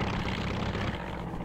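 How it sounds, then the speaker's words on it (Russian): In the Commandos: Beyond the Call of Duty video game, a helicopter starts up and flies off with a dense, steady whirring roar, loud and close for a brief moment. "Вертушку включаем и улетаем, ребята"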